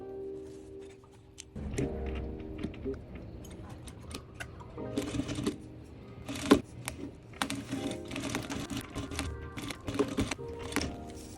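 A sewing machine parallel stitches a prom dress in quick ticking bursts with short pauses, its rapid mechanical clatter close and fairly quiet, with no voices.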